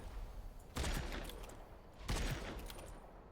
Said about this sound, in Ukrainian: Ой, в мене хтось стріляє